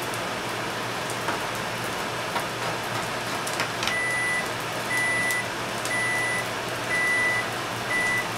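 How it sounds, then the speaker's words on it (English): A kitchen timer beeps for the chicken over a quiet stovetop: five evenly spaced high electronic beeps about a second apart, faint against a soft sizzling background. "That was the timer for the chicken."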